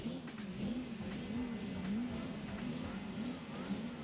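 Car engine revving in Gran Turismo 4 at the Fuji circuit, a faint, steady racing-engine drone wavering in pitch as the revs rise and fall, with no talk over it.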